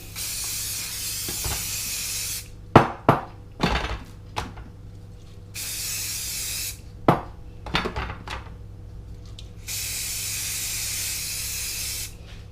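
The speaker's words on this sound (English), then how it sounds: "So the next thing I do is give them a good spray." Several bursts of fine olive oil spray hiss in short pulses onto squid, separated by quick clicks and light taps of handling, with no talking.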